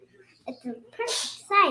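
A young girl sneezes sharply once, close and loud, amid nearby talk with other voices speaking before and after.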